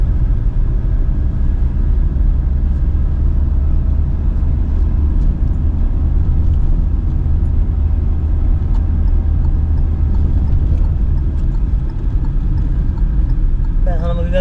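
A driving exam car pulling away under acceleration: a loud, close, continuous low engine rumble that stays steady throughout, with people talking inside the cabin.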